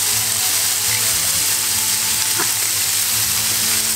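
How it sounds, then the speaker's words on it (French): Courgettes and pressed garlic frying in a pan, a loud, dense, steady sizzle that stays close and unbroken throughout, with no speech. "Vous voyez quand les courgettes commencent légèrement à dorer."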